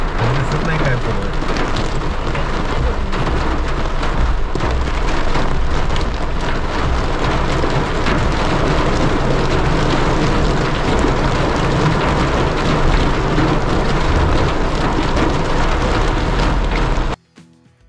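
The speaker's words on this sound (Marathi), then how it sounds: "त्याची एक झलक आपण या छोट्या धबधब्याखाली जाऊन पाहू." Water from a small waterfall at Dhareshwar pours down steadily in a loud, dense, unbroken roar that stops abruptly near the end.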